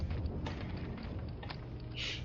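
Weapon reloading in the WWII shooter Medal of Honor: Allied Assault, a run of close mechanical clicks and metallic ratcheting over steady game ambience, ending in a brighter hiss.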